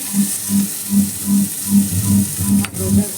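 Bitter gourd frying in a pan, a steady sizzle with a low pulsing hum that swells and fades in a regular rhythm about twice per second, plus a brief scrape near the end.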